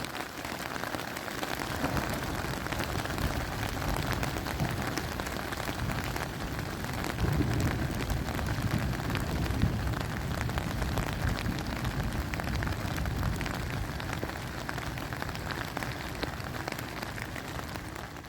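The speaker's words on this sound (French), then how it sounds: "La pluie arrive en milieu d'après-midi le lendemain" Steady rain patters densely on a taut tent fabric close by, a continuous crackling hiss with no voices.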